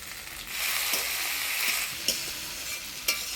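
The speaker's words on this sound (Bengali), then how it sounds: "পেঁয়াজটা ফোড়নের তেলে হালকা লাল করে ভেজে নিলাম এবার টমেটো কুচি দিয়ে দেবো" Chopped tomatoes hit onions frying in spiced oil with cardamom, cloves, dried chilli and bay leaf, giving a loud steady sizzle with a few sharp clacks of a spoon stirring the pan.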